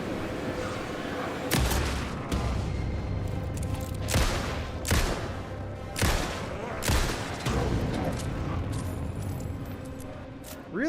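Flare gun fired in a video game, several loud sharp broadband bursts spaced roughly a second apart over a rumbling background of game noise, with no talk over them.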